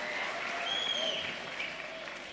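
An audience claps at the final event of a space olympiad, with sustained, fairly faint applause running steadily throughout and a few whistle-like tones on top.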